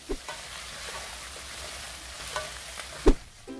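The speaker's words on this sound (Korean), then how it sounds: "남아있는 양념과 목살이 타지 않게 잘 저어가면서 볶아주세요." Pork neck being stir-fried in its remaining sauce, a steady close sizzle running throughout, with a few scraping stirs and one louder clunk of the utensil against the pan near the end.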